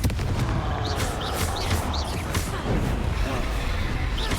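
Bursting fiery blast of the Confringo fire spell in Hogwarts Legacy, a dense, loud explosive crackle filling the clip with several sharp high chirping effects layered over a steady low rumble.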